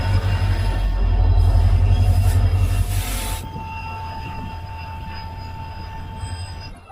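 Karatagi Yesvantpur Express train rumbles at Gangavathi railway station in India, a loud low roar with faint squealing wheels that fades to a steady hum of idle carriages.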